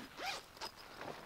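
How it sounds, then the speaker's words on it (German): Zipper on a campervan's outdoor shower tent being pulled open in a few quick, close rasping strokes, alone and without speech. "Es geht ganz einfach über so einen Reißverschluss hier."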